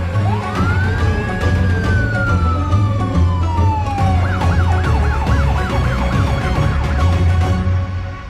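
Police car siren in a Hindi-dubbed South Indian action film, a loud wailing tone sweeping up and slowly down, then switching to a rapid repeating yelp over engine rumble, with no talking.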